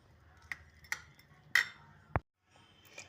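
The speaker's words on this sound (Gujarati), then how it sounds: "હવે એને સરસ રીતે હલાવી દઈશું આપણે" A spoon stirring cooked chana dal in a pan, with a few sharp metallic clinks against the pan's side, then a single dull knock and a short pause before the stirring resumes.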